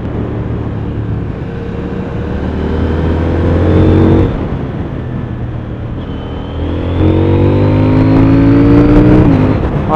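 A CFMoto 800NK motorcycle ridden along the Côte d'Azur: a loud, close engine drone rises in pitch as it accelerates, drops off around the middle, then climbs again through a second run of revs.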